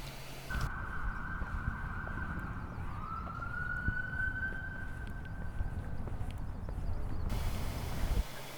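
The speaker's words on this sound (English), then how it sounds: "I think that was an ambulance." An ambulance siren wails steadily at a distance over constant low traffic rumble, holding a high tone for several seconds before fading out.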